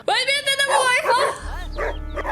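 A dog in the video game Schoolboy Runaway yips and whimpers in high, wavering cries, close and loud, while a person talks over it.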